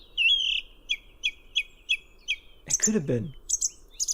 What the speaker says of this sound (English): yes, I heard a song thrush